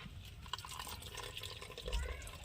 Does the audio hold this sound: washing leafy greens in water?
yes